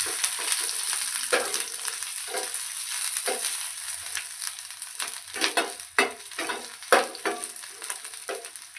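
Green chilli, ginger and garlic crackle and sizzle in hot oil in a pan, a steady frying hiss broken by sharper spatters and occasional stirring scrapes, close and fairly loud with no talking.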